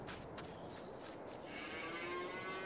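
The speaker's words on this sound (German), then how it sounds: "hier haben wir unsere Kühe." Cows in the video game Farming Simulator 22 low a long, drawn-out moo that rises over a steady hiss of farm ambience, faint and somewhat distant with no talk.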